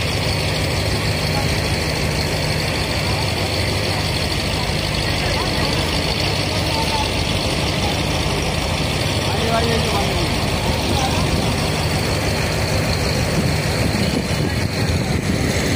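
A sand dredger vessel's engine running continuously, a loud, dense, steady low drone with mechanical rumble throughout, and voices faintly audible under it.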